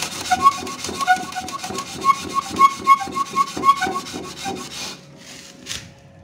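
Sandpaper rubbed by hand back and forth over a Honda S90Z clutch engine part, a quick run of rasping strokes close up that stops abruptly near the end, leaving near silence.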